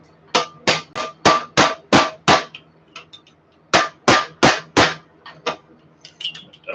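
Sharp hammer-like taps on a bicycle headset part being seated, two quick bursts of about seven and five strikes with a pause between, close and loud, followed by faint softer ticks.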